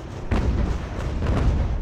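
Cannon artillery fire in the strategy game Ultimate General: American Revolution, during a British invasion of New York: two muffled, rumbling booms about a second apart, loud and somewhat distant.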